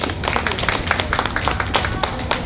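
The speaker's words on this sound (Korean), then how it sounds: "여러분 박수." Audience clapping at a Korean folk song contest in California, a steady patter of many hands applauding together in a hall, close and fairly loud, with no voices over it.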